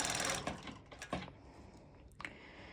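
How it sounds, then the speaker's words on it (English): Brief bursts of a cover stitch sewing machine running in short, close runs with pauses between, stitching fold-over elastic onto a triangle top, with fabric handling noises in the gaps. "I'm going to my cover stitch machine"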